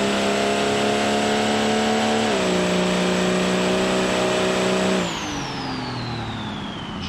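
A car in a BeamNG drag race revs hard through the gears, its steady high engine whine stepping down at each shift before the note drops and fades away.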